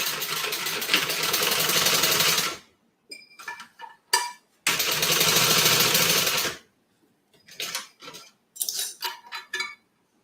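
Close, loud sewing machine stitching around the top of a crossbody bag, two sustained whirring runs of a few seconds each, separated and followed by clinks and fabric handling.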